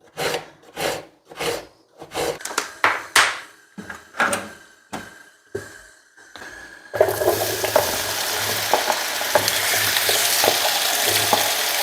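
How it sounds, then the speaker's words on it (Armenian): Sliced food for homemade shawarma dropped into a hot pan, preceded by a series of sharp rhythmic knocks and scrapes, then a sudden loud, steady sizzle that carries on to the end, with no talking. "թող տապակվի այստեղ"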